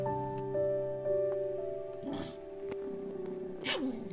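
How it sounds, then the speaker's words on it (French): A small Pomeranian puppy growls low and rumbling amid tonal background music, with a short sharper yelp near the end. "Vous avez entendu ce grognement?"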